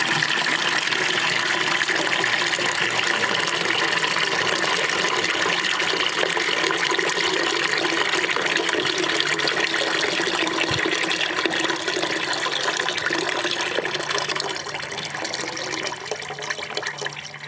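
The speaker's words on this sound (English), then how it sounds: "you'll wanna just empty the rest of the sanitizer out of there." Leftover sanitizer draining out of an Electro Freeze CS4 soft-serve machine, a steady loud gush of liquid pouring continuously, easing slightly toward the end, with no talking.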